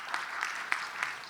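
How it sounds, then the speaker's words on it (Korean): Brief applause at a Korean church district meeting, a soft wash of clapping from the congregation with a few sharper individual claps standing out at a loose, uneven rhythm. "다시 한번 응원의 박수"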